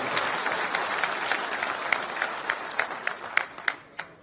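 A crowd at a political event in Kishangarh welcomes the chief minister with applause. Dense clapping fills the room, and a few louder individual claps stand out near the end as it starts to thin.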